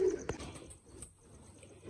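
Fancy pigeons of a crystal-eyed breed cooing softly at close range, with a brief sharp tap early on and low background murmur.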